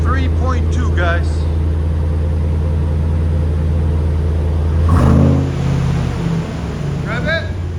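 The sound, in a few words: Chevy Silverado 2500HD 6.6L V8 engine idling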